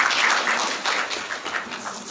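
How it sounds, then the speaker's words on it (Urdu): An audience at a Karachi University education department orientation day applauds, a dense wash of clapping that stays fairly steady for about two seconds before easing off slightly, with no talking over it. "تالیاں بجائیں تو پھر مستقل ہی بجنی چاہیے"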